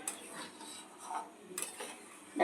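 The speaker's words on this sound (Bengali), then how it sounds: "আর মিষ্টিটা চিনিটা দিলাম দিয়ে একটু আবার নেড়ে চেড়ে দিলাম" A spoon stirs sugar into sabudana kheer in a pot, making soft scraping and light metallic ticks, close but faint, with a slightly louder clink at the end.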